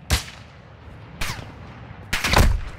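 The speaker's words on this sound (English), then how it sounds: "Friendly precision airstrike inbound." Precision airstrike explosions in a multiplayer shooter video game. Three sharp, heavy blasts land about a second apart, each loud and close with a short rumbling tail, and no talk over them.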